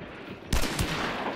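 Gunfire in the video game Hunt: Showdown: after a quiet lead-in, a sudden loud blast erupts, followed by a second shot and a rumbling, echoing tail, with no voices over it.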